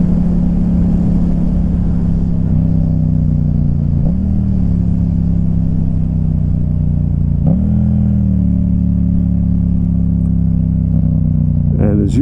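A Yamaha MT-07 motorcycle engine under way with several quick rev blips at rev-matched downshifts, a loud, close engine drone rising sharply at each blip.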